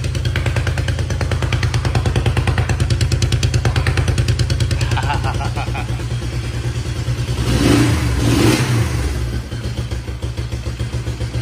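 An engine idles with a fast, steady clattering pulse, close and loud, then revs up briefly and drops back to a fast idle.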